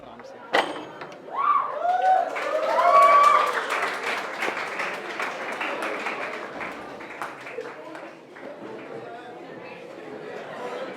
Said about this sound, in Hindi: ये तालियां क्यों बजा रहे थे?